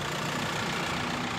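A car engine idles at a roadside stop. The low, steady rumble runs close and unbroken, with no voices over it.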